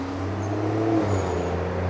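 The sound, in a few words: road traffic noise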